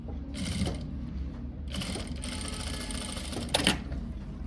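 A sewing machine runs in several bursts, stitching the folded margins of a blouse sleeve, with short pauses between its whirring runs and a brief clatter near the end.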